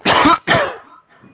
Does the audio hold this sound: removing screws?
no